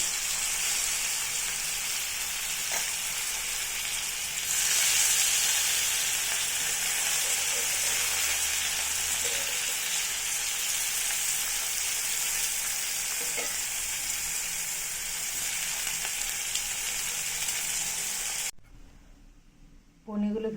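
Paneer pieces frying in oil in a pan, a loud continuous sizzle with occasional stirring clatter that cuts off abruptly near the end.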